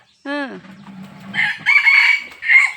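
A single rooster crows loudly up close, its call breaking off into a strained trailing note, then a brief chorus of other fowl noises.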